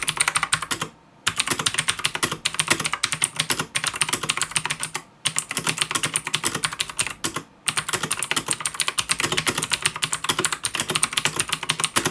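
A budget pink Razer Quartz mechanical keyboard with blue switches clatters under fast, steady typing, its crisp clicky keystrokes close and continuous, broken by a few short pauses.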